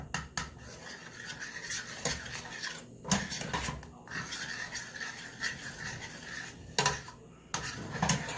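Butter and Parmesan sauce is stirred in a pan off the heat, giving close, irregular scraping and rubbing strokes with occasional sharper clinks of the utensil against the pan.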